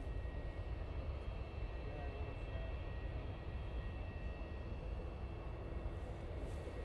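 Steady broadband roar of a fixed-wing airliner engine at Manchester Airport, continuous and moderately distant, with faint voices mixed underneath.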